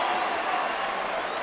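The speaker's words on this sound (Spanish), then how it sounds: "Y el público aplaude la hazaña de Kofi Kingston." Arena crowd at the 2013 Royal Rumble wrestling event applauding in a steady, dense wash of clapping and cheering, heard from a distance with commentary voices faintly underneath.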